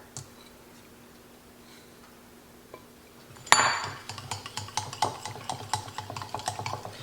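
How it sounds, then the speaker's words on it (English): After a quiet start and a sudden clatter, a whisk beats egg yolks into a chocolate mixture, clicking rapidly and rhythmically against the bowl up close. "We're going to take our egg yolks and we're going to whisk it into our chocolate mixture."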